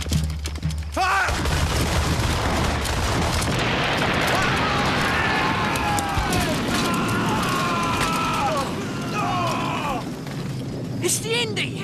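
Cannons aboard a wooden sailing warship fire in a naval battle. A heavy blast opens, followed by rumbling and crackling gunfire under loud shouted commands from crewmen, with another sharp report near the end.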